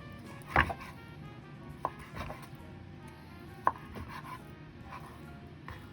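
A kitchen knife chops raw salmon into cubes on a board, a few sparse, quiet thuds and taps spread out unevenly over several seconds, close by.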